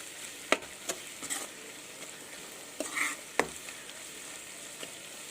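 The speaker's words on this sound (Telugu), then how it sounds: "ఇప్పుడైతే మన పాస్తాలు అనేది ఇందులో వేసేసుకుందాం." Pasta tipped into a pan of egg pasta with chili powder and stirred, giving faint, scattered scrapes and clicks over a low frying hiss, with a few sharper knocks of the spoon against the pan.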